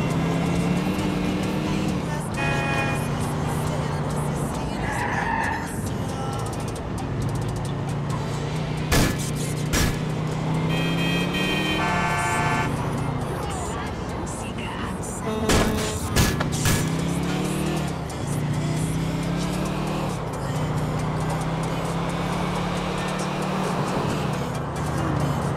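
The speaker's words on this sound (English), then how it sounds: "What's the deal with this manic driving shit?" Cars drive through the streets of Grand Theft Auto: The Ballad of Gay Tony, with a steady, loud engine drone that rises and falls alongside passing traffic and a few sharp bangs.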